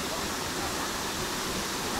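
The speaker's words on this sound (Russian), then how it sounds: "Вот мы добрались на водопад. Вот, водопад красивый." Steady, dense roar of a waterfall at Bang Pae in Phuket, Thailand, a continuous broadband rush of falling fresh water heard close and loud throughout with no break.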